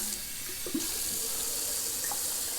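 A 30mm shaving brush rinsed under a running tap after a shave, with a steady, close rush of water into the sink. A few brief splashes change the flow, and no one speaks.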